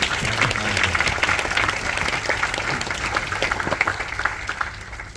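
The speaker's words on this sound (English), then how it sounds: "Let's give them another big round of applause." Loud, sustained audience applause in a large hall at a youth symposium, dense clapping holding steady throughout before easing slightly near the end.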